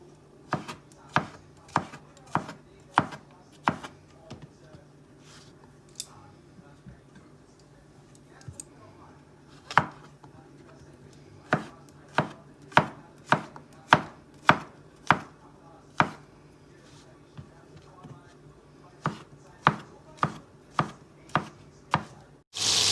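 Beef and champignon mushrooms are chopped with a knife, about two dozen crisp, sharp knocks in an uneven but steady rhythm, clear and close with quiet background between strokes.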